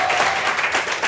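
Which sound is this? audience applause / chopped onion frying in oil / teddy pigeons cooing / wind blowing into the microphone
audience applause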